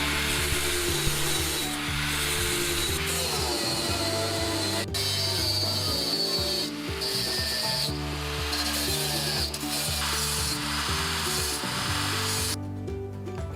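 A homemade scrap-metal dowel jig with saw teeth cut into it shaves wood, producing a loud, steady grinding rasp that runs continuously with slight surges before stopping abruptly near the end; no voices.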